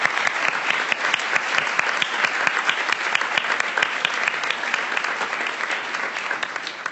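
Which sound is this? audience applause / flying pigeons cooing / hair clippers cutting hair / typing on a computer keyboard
audience applause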